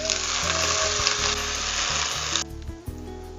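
Browned onions sizzle loudly in a pan as they fry, a steady broadband crackle with a few stirring knocks, dropping sharply quieter near the end.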